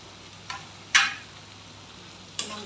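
Potatoes drop into sizzling rendered chicken fat in a pan with a sudden loud hiss that fades quickly, framed by a couple of fainter clicks before and after.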